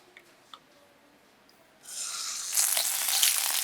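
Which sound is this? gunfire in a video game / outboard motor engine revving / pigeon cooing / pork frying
pork frying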